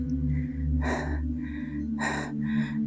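A person pants heavily, out of breath, while climbing a mountain trail. The breaths come in several loud, rhythmic gasps close to the microphone over a steady low background hum.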